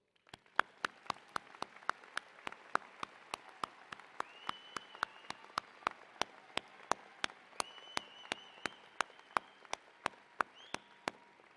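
During a commencement ceremony, crisp, evenly timed claps sound close by, one after another at a steady pace over a faint, quiet background of wider applause and a few thin whistle-like tones.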